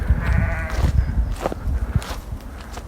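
A sheep bleating close by in a countryside field near Woodhenge and Stonehenge, a wavering call followed by shuffling and outdoor rustling.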